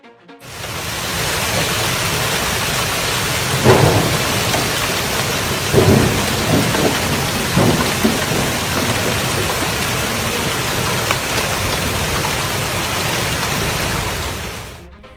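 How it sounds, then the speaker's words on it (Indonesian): A hailstorm in Cija, Sevilla, with heavy rain and hail drumming constantly on surfaces and a couple of rolling thunder rumbles rising above the downpour. "Hujan es di Cija, Sevilla."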